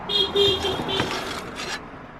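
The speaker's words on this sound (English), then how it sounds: "Somebody who felt like it was necessary to interrupt my day by honking at me" A car horn honks in a couple of short blasts from nearby, followed by traffic noise fading out.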